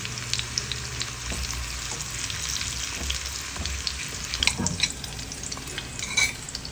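A string bean omelette fries in a pan with a steady close crackling sizzle, punctuated now and then by louder spatters and utensil scrapes.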